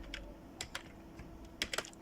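Someone typing on a computer keyboard, a quiet close-up patter of irregular keystrokes with a quick cluster near the end.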